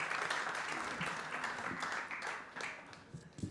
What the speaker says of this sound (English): I would like to give all of you a large round of applause